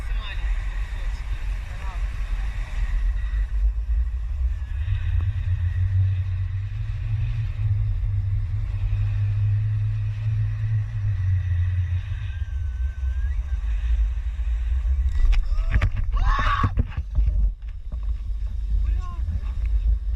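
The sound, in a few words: boat towing a parasailing parachute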